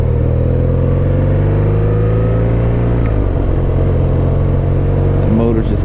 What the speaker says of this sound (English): these K2X motors with their little rumble they got going on